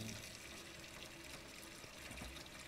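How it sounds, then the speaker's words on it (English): Tap water running steadily in a goose-themed video game, a continuous splashing flow at moderate level without speech. "you need to turn on the tap water"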